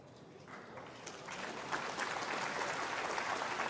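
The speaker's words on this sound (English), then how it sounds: "you felt when you heard that little bit of applause" Soft, brief applause from a snooker audience at the Xian Grand Prix 2024 semi-final, a light patter that builds gently and then holds steady, with no talk over it.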